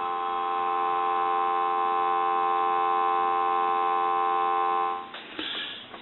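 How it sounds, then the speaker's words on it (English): Steady telephone dial tone on a Stromberg Carlson wooden wall telephone converted and under repair, a continuous even hum holding for about five seconds before cutting off into brief handling clatter. "Give you some dial tone."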